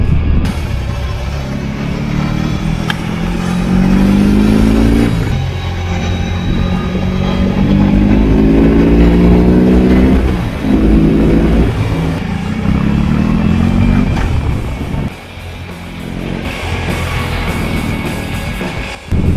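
BMW R18 bagger motorcycle engine on a test ride in rock mode, a deep loud rumble rising repeatedly through the gears in long climbing pulls, then easing off and picking up again.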